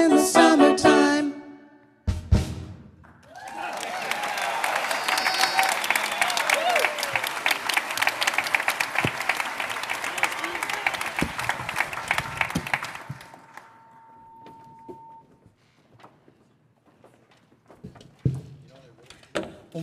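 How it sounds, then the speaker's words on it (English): Sustained audience applause at a Rotary Club holiday program, following a family's song. Dense, loud clapping from a sizable crowd rises after a brief pause and holds for about ten seconds, then thins out into scattered claps and room noise. "Let's give them one more round of applause."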